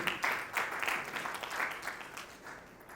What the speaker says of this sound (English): Can I please hear a loud applause for Matthew?